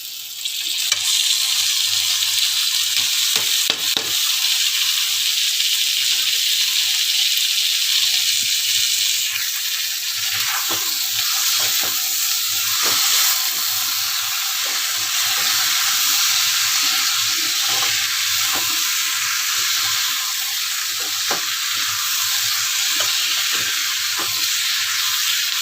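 Whole masoor lentils and soaked potato pieces stirred together as they fry in a pan, a steady close sizzle with intermittent scraping clatter of the spoon throughout.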